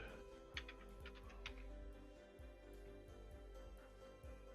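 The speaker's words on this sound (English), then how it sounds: "I'll type it in." Keys clatter on a computer keyboard in quick, uneven bursts of soft clicks, faint and close, over a steady low hum with no talking.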